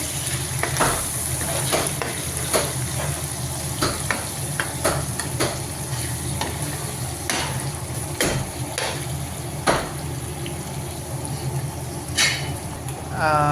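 Tomatoes frying in a hot pan during biryani preparation, a steady close sizzle with frequent stirring scrapes and clinks running throughout, fairly loud and continuous.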